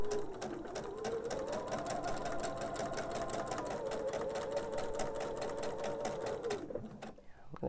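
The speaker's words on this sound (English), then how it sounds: "And sew my same scant quarter inch seam." A sewing machine runs steadily for about seven seconds, stitching a scant quarter-inch seam along the blunt ends of fabric pieces for a table runner, then stops abruptly.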